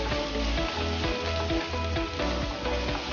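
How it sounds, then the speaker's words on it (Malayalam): Sliced onions sizzling and frying steadily in a pan with garlic and ginger, a close, continuous crackle with faint stirring, no talk. "അതിലേക്ക് 2 സവാള നീളത്തിൽ കനമുറഞ്ഞരിഞ്ഞതാണ് ചേർക്കാം. ആവശ്യത്തിന് ഉപ്പ്. നന്നായിട്ട് ഒന്ന് സോട്ട് ചെയ്യാം."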